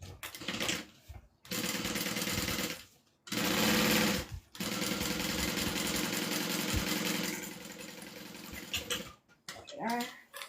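A sewing machine top-stitches a bag in long, steady whirring runs broken by brief pauses, loud and close, followed by a short rustle of fabric at the end.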